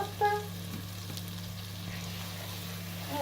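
Onion mixture sizzling in a frying pan while being stirred, with a steady gentle fry and a few utensil taps and scrapes, heard close and without talk.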